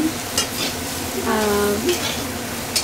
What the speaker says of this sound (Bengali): ধনে গুঁড়ো আর জিরে গুঁড়ো দিয়েছি, আর একটু হলুদ দিয়েছি, দিয়ে এইভাবে ভেজে নিচ্ছি